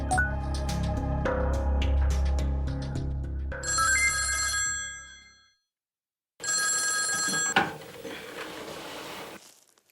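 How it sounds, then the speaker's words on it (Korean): A telephone bell rings loudly in repeated bursts, stops for a short silence, then rings again, set in a North Korean foreign insurance office in 2002. "네, 전화 받습니다."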